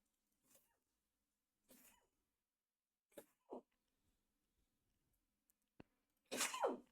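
A single sharp sneeze bursts out near the end, loud and close, after a few quieter scattered vocal sounds and small noises in an otherwise quiet room.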